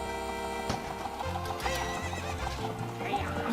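Horse neighing loudly over rapid clip-clop galloping hooves in The Legend of Zelda: Ocarina of Time, with game music playing underneath throughout.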